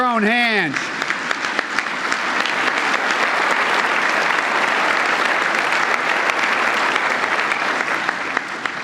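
A packed room at the White House Press Correspondents Dinner breaks into loud, sustained applause that fills the whole stretch, after a brief spoken phrase at the start.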